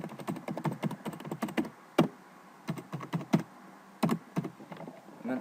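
Fingers type on a computer keyboard close up, quick bursts of crisp clicking keystrokes broken by brief pauses and a few harder key presses.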